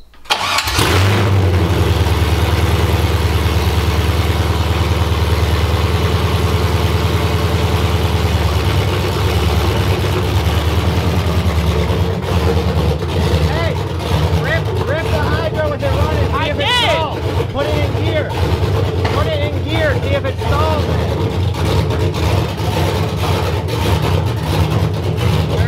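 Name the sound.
BMW V8 car engine starting and running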